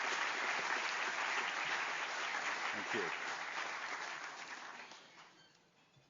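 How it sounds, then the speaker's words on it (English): A crowd at the Future Brisbane 2022 event applauds, a loud, even roomful of clapping that holds steady and then fades away over the last seconds, with a brief spoken thanks over it. "Can we just have a round of applause?"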